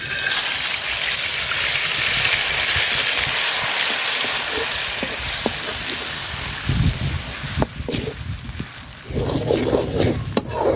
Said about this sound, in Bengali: মশলাটা তেলের সাথে খুব সুন্দর করে ভাজা নিছি